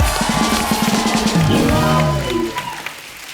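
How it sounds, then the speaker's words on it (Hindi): A studio audience applauds on a comedy talk show, a dense burst of clapping up close that tapers off over a few seconds, with a voice briefly heard over it. "एक बार जोरदार तालियां हो जाएं अक्षय पाजी के लिए।"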